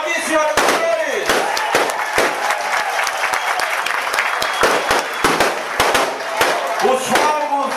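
Firecrackers and fireworks crackling at a PSDB party affiliation event, rapid irregular volleys of sharp pops and bangs nearly continuous throughout, mixed with applause and crowd noise.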